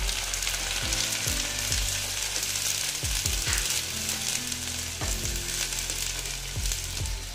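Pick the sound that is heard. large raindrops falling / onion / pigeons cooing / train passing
onion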